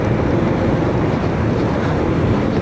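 Steady wind-blasted rush of a motorcycle ride on an open road, constant and loud with no pauses or voices.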